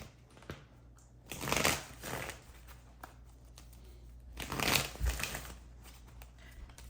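Tarot cards being shuffled by hand in two main bursts of riffling and rustling, close and moderately loud over a quiet room background.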